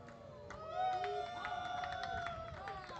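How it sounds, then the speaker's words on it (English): A baseball dugout crowd at an FIU vs FGCU game cheers and claps after a walk, a modest burst of voices and shouts heard faintly under a commentator's voice. "And the cheer from the dugout"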